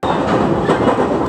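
A train running on the Ban'etsu line in Japan, passing through hills and rice-field country near Lake Inawashiro, gives a loud, close, continuous rumble with faint rhythmic clatter from the wheels.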